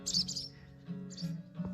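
Small birds chirp in a ranch garden, two or three short high tweets over a steady low hum, moderately near and not loud.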